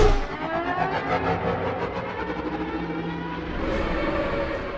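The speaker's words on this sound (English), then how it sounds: "Anakin's Racer sounds like a Formula 1 car on steroids" A podracer engine in the Star Wars Episode I Racer video game, a loud continuous buzzing whine with a pulsing, revving drone that swells slightly near the end.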